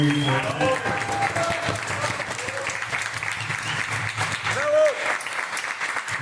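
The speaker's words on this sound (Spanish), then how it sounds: "lizzari y Ariel Di Costanzo, autores de San, un aplauso muy fuerte." Applause from an event audience honoring the authors of the board game SAND at Devir Fest Buenos Aires 2024, a dense steady clapping that carries through the whole stretch with crowd noise and a few voices mixed in.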